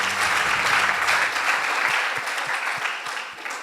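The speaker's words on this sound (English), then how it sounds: "Give them a round of applause." A school audience applauds after results are announced at a high school debate between Alliance High School and Nyeri High School. The clapping is loud and crowded at first, then thins to scattered individual claps as it fades.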